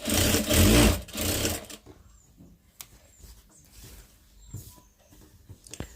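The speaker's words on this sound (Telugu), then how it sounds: "ఇటు పక్క అంచు లేదు కాబట్టి ఇట్లా మడిచి కుట్టుకోవాలి" Sewing machine stitching a folded hem on a saree petticoat, a loud close whirring run for almost two seconds, then quiet with faint handling clicks and light taps.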